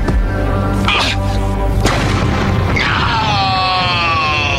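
A cartoon energy ray blows up in Teenage Mutant Ninja Turtles, a loud dense boom and crash with sharp bursts that tails off into a rising, ringing whine, a voice mixed in.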